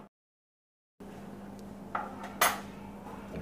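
A spoon stirs seasoned ingredients, black pepper, salt and oregano, in a metal pan, giving a couple of sharp scraping clinks against a low steady hum after a second of silence.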